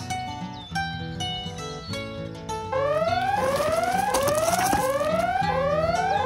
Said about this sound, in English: The brawl alarm is going to be a random alarm that's going to go off throughout the day at any time.